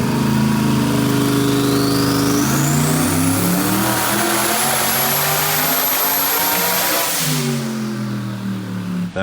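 A 1,500-horsepower car engine roars loud and continuous on a dyno, pitch climbing steadily as it revs up, then dropping off sharply toward the end with a turbo whine riding on top; no talking.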